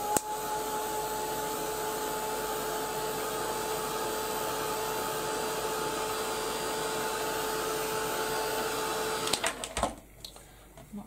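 A hair dryer blasts steadily over freshly made craft pieces, a loud continuous whooshing roar with a faint whine, held for about nine seconds before it cuts off abruptly and leaves quieter handling sounds.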